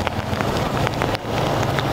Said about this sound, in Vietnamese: ở ngoài trời mưa rất là to